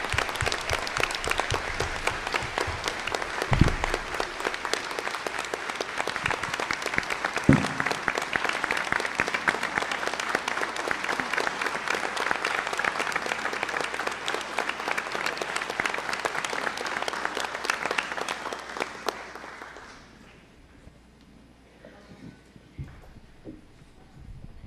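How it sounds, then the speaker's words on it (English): A school board meeting audience gives the honorees a long, dense round of applause lasting about twenty seconds, then it abruptly dies down to quiet room tone. "Let's give them a nice big round of applause."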